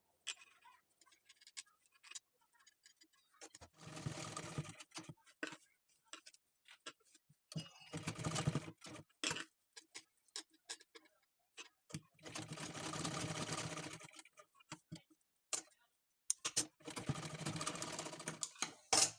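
A sewing machine stitches fine gathers into a blouse, running in several whirring bursts of a few seconds each, separated by pauses filled with light mechanical ticks and handling noise.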